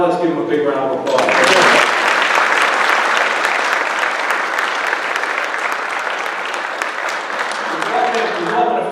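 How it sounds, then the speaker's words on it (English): A graduation ceremony audience breaks into loud, sustained applause that swells after a brief spoken lead-in and holds steady for several seconds, with voices faintly returning as the clapping tapers at the end. "Now let's give them a big round of applause."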